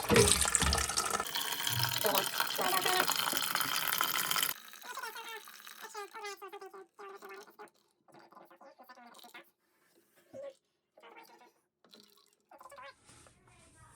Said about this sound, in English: water is still kind of dripping